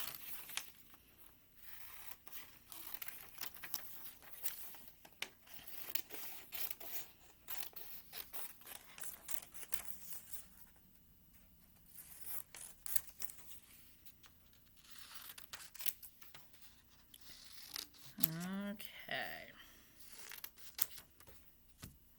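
Scissors snip and cut out paper pictures in faint, close, irregular clips, with light paper rustling and crinkling.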